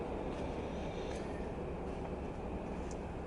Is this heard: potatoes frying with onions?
no